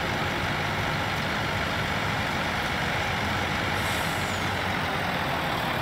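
A Farming Simulator 19 truck drives along with a steady, dense engine rumble and road noise, continuous and moderately loud throughout with no talking.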